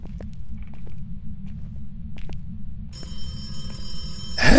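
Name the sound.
telephone ringing in the video game Phasmophobia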